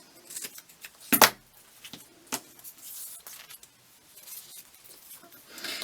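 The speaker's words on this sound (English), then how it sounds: "Cut it to there." Scissors cutting paper while making an envelope craft, one sharp loud snip followed by smaller scattered cutting and handling sounds, close up and quiet between, with no talk.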